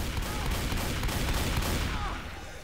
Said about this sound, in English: I didn't know you could shoot through the elevator